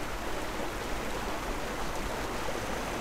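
A steady, dense rush of falling water from a waterfall in Guild Wars 2 fills the moment evenly and loudly, unbroken hissing spray with no voices or other sounds.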